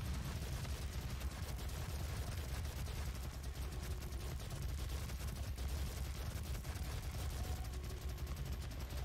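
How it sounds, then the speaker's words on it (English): Rapid, continuous gunfire from the video game Doom sounds fairly faint and steady, a dense rattle of shots with no pauses and no talking. "Let's just shoot his gun a whole bunch."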